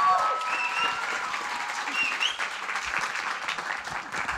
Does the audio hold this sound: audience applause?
yes